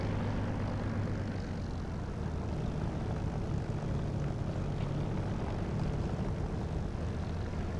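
Aircraft engines in the DCS flight simulator game give a steady, loud, dense propeller-like drone with a low hum throughout, no talking.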